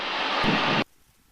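A steady light-aircraft engine drone that cuts off abruptly partway through as the engine is pulled back to idle, leaving near silence.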